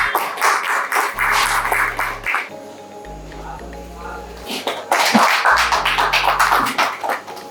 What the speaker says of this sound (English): So let's welcome them with a big round of applause.